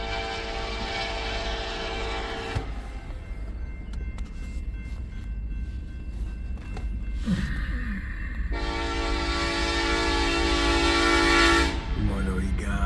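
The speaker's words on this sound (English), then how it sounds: "Westbound empty coal drag now." A westbound empty coal freight train rolls past with a steady rumble of wagons, and its loud horn blows at the start and again near the end.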